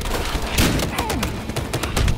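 Rapid bursts of video game gunfire crackle in uneven clusters, loud and close, with a thump or two mixed in, while players talk over the shooting.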